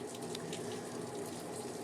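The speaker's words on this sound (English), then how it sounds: "I apologize for the rain noise, but there's nothing I can do about that." Steady rain falls outdoors beside a Traeger Tailgater grill during a cookout, a constant dense broadband patter with no voices, continuous and fairly loud throughout.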